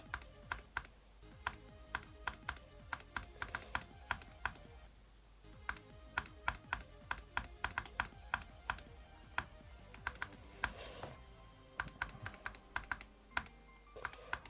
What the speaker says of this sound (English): I have a Hall Effect keyboard even